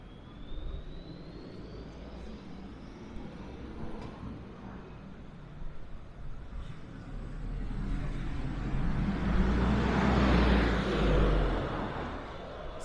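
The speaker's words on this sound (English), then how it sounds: "Here's the 88 bus right now." A London bus and traffic passing near Horse Guards Parade, a low engine rumble building into a loud close pass before easing, with steady street background and no talk.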